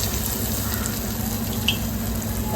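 Potato vada frying in hot oil, a steady close sizzle with a small bright pop partway through.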